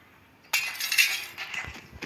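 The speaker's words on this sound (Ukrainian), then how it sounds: "Давайте тут розбиваємо вікно." A window pane smashed in the Hello Neighbor video game, one sudden loud crash of breaking glass followed by a shower of tinkling shards and a final small clink.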